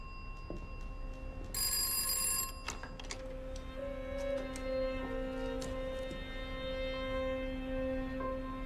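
An old telephone bell in a period detective drama rings in one loud burst, then trails off into lingering metallic tones and scattered faint clicks, with no voices.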